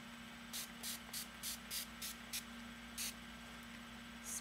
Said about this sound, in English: spraying it to get the hair saturated